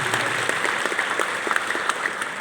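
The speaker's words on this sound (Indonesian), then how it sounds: "Yang percaya boleh kasih tepuk tangan." Church congregation clapping together during a Sunday service, a steady dense patter of many hands that fills the whole moment without voices over it.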